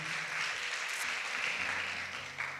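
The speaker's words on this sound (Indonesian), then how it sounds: "Tepuk tangan buat Tuhan Yesus dong, haleluya" Church congregation clapping together in a sustained, fairly even burst of applause, heard without talk.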